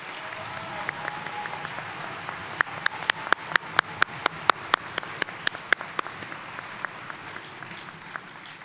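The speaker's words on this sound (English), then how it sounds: "Let's give them all a round of applause." Applause at a college summer commencement ceremony, a faint scattering of claps that swells into a short run of sharp, evenly spaced claps from a nearby individual over a distant crowd, then tapers off.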